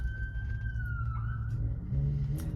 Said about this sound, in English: there goes the police siren.